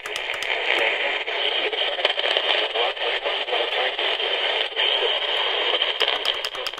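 Weak AM station on an Eton FR1 emergency radio, a continuous hiss and crackle of static with faint, buried broadcast sound and occasional clicks, steady and close.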